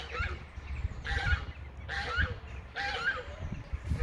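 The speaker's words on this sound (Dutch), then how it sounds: "Ah, kijk, de ganzen." Several loud honking calls from geese come in bursts over a steady low rumble, some overlapping, fairly close.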